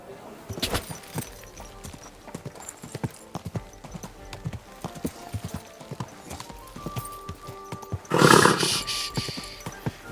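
Horse in Kingdom Come Deliverance II: steady hoof clip-clop on the ground across the scene, with a loud snort or whinny near the end, close and fairly clear.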